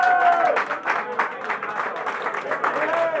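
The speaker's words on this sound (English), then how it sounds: "Deserves a round of applause." Scattered clapping from a small group in a pub, with chatter and voices running underneath the whole time.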